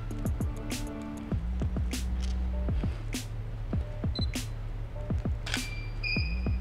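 Mirrorless camera shutter firing in a string of sharp clicks during a studio photo shoot lit with three softboxes, some shots in quick pairs, sounding close over a steady low hum of the room.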